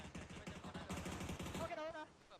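Bursts of rapid gunfire in a PUBG esports match, loud and continuous, under excited caster talk.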